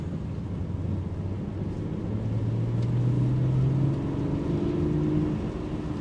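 A BMW 640d M Sport F12 with its 3.0-litre diesel engine in Sports Plus mode gives a steady low drone under cabin and road noise while driving, with the tone rising gently as it accelerates.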